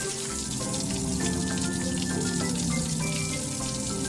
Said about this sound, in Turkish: Bak, lifti serinleten bir duş alıyor.